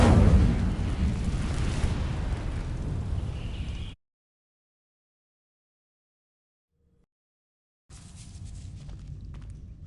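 Incendio fire spell in a Harry Potter video game igniting dry vines: a loud roaring burst of flame with crackle for about four seconds, then abrupt silence, followed by a quieter rumbling crackle returning near the end.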